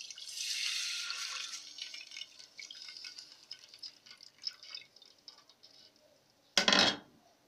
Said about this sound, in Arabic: هنزل عليها بثلاث كوبايات مية